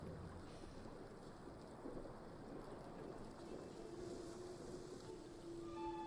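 Hail and a storm in the Trek to Yomi video game make a steady broadband rush of pelting and wind. It runs the whole time, with a faint tonal hum near the end.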